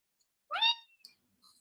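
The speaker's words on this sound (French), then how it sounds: "merci monsieur le chat, monsieur le chaton" A cat gives a single short meow in an otherwise quiet indoor setting, followed by a few faint small sounds.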